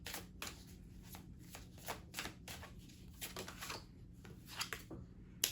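A deck of oracle cards is shuffled in quick, close, crisp riffling bursts, repeated flutters with short pauses between them, quiet and with no one speaking.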